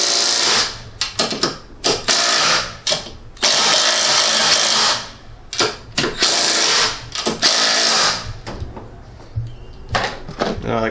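Impact-style power tool in repeated bursts while tightening front suspension bolts on a Lexus ES300 during a suspension rebuild, a loud rapid whirring and rattling that starts and stops over and over with brief pauses between.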